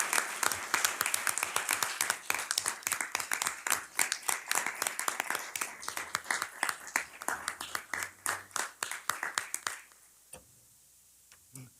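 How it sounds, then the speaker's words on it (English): Sustained audience applause at a county executive budget presentation, many hands clapping briskly and steadily before fading out into near silence near the end. "join me in giving them a big round of applause for their extraordinary service"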